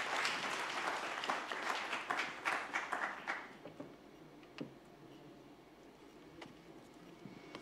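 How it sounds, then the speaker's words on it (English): Audience applause at a corporate sustainability report launch, a fairly distant round of clapping that fades out after a few seconds, leaving scattered claps and room noise. "let's give a warm round of applause to Anita"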